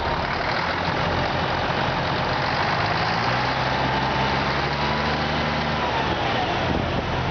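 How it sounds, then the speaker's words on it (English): The engine of a concrete mixer truck runs loud and steady while revving to spin the mixer barrel, a continuous low rumble with a slight rise in pitch midway and no talking. "going to go in the truck and rev it up and let you see that barrel spin"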